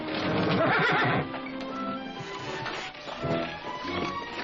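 A horse neighs loudly up close while hooves clip-clop beneath, with further whinnying and scuffling movement in a 1963 western scene.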